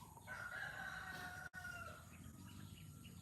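A rooster crows once, a single drawn-out cock-a-doodle-doo from a rural setting where goats and sheep are kept. The crow is faint and distant over a quiet outdoor background, with no talking.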